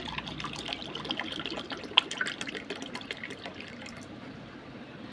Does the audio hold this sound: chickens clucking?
no